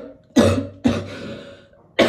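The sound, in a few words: cough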